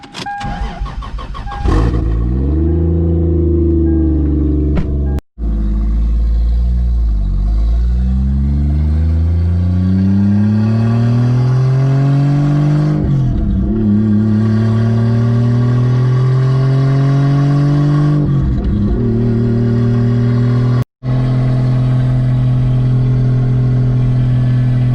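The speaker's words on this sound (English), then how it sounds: "Car's idling like it's got a lumpy cam in it." A Lexus IS300 cranks and fires up, then settles into a loud, lumpy idle like a car with a rough cam, its engine note rising and falling with a few revs and dips, heard up close with no talk.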